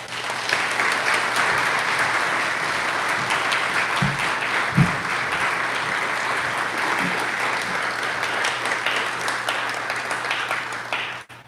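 An audience at a university's 100th anniversary celebration applauds an award recipient being welcomed for a medallion, sustained even clapping from a full room lasting about eleven seconds before fading out abruptly.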